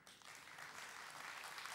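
Steady applause from a studio audience at an Italian singing competition, welcoming the first young contestant; continuous, dense clapping that holds at an even level throughout with no pauses.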